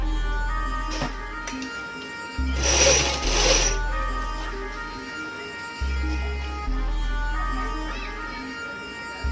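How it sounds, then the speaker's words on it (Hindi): A sewing machine stitches dori piping onto fabric in several runs, its loud, close mechanical hum starting and stopping between pauses, with one louder, harsher burst partway through. "इस तरह से धीरे धीरे आप मशीन चला सकते हैं,"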